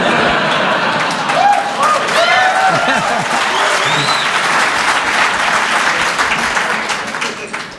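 Audience at a religious freedom debate applauds steadily for several seconds, a dense wash of clapping with scattered voices and shouts mixed in, fading slightly at the end.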